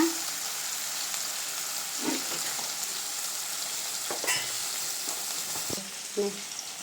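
Panch phoron, onion and dry chillies fry in hot oil, making a steady close sizzle throughout, broken by a few soft clicks and scrapes of stirring.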